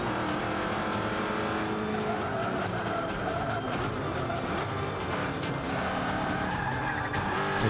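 A race car in Forza Motorsport 5 slides and skids, with a steady roaring engine under continuous tire squeal that stays loud throughout.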